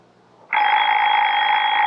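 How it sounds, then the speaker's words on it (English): A Baby Ben wind-up alarm clock bursts into a loud, continuous bell ring after a brief quiet moment, the clattering tone sustained and close without pause. "Baby Ben's our alarm clock, honey. It never forgets to get us up."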